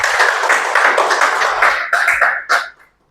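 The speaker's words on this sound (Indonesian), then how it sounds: "Beri tepuk tangan untuk Tuhan Yesus." Congregation clapping during a Sunday church service, a dense, steady patter of many hands that swells briefly and then stops abruptly, leaving silence.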